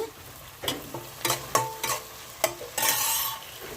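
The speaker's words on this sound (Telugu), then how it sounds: "ఆయిల్ అవ్వింది ఇప్పుడు ఉల్లిపాయలు వేసుకుందాము పచ్చిమిర్చి సరిపడా ఉల్లిపాయలు వేగిపోవాలండి బాగానే" Onions and green chillies fry in hot oil for a cauliflower tomato curry, with irregular loud spatula scrapes and clatters over a low sizzle, close by and without speech.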